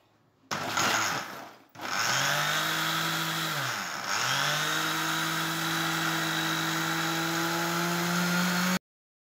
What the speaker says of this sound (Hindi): अब ये देखिए मिक्सर जार में डाल दिया अब मैं इसको फटाफट से चला देती हूँ